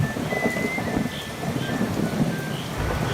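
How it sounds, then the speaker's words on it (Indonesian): Heavy rain pouring down continuously over a low rolling rumble of thunder, dense and loud throughout the short stretch, with a faint high tone drifting over the storm noise. "Dan hujan tetap turun dengan lebat sepanjang hari, setiap hari."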